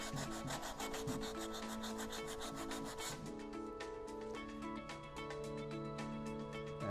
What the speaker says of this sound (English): take a piece of sandpaper, and the sandpaper is going to help conceal the spile